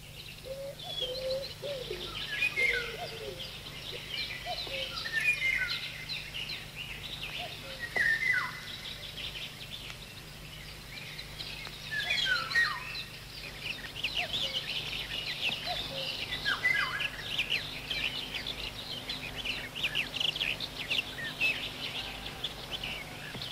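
A 1930 recording of a dawn chorus: several birds, including a golden oriole, sing and chirp in overlapping phrases over a steady low hum and hiss, with clear whistled calls rising above the chorus.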